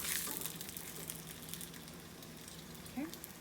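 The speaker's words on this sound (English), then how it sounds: "We're going to be shallow frying the tortilla for about a total of a minute" Steady, quiet sizzling of tortillas shallow frying in oil, a continuous crackling hiss with no talking.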